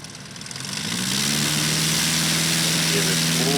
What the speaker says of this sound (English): We have David Warren taxiing up the line all the way from Mobile, Alabama.